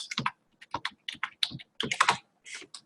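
Keys clacking on a computer keyboard in quick irregular bursts of several strokes separated by short pauses, close and clear with nothing else audible.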